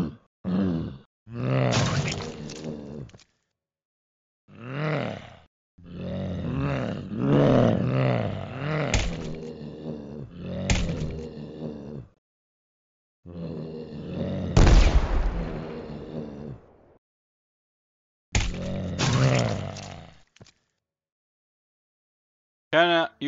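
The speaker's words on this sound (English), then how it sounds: "wow, look at that, it's just flooded over here with zombies" Zombies in the game Rogue Zombies groan and roar in repeated bursts, deep guttural moans separated by brief silences, loud and close with occasional sharp impact-like hits mixed in.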